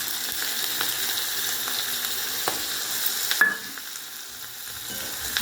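Ginger and blended spice paste sizzling steadily in hot oil while being cooked down for Bengali rohu fingerling fish fritters, a continuous close crackle with a few stirring knocks and a quieter stretch near the end.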